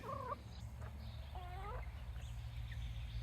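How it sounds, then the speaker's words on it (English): A hen sings after laying an egg, giving a few faint, drawn-out clucking calls at a distance over a low background hum. "Rosemary just laid an egg. She's singing. She's proud."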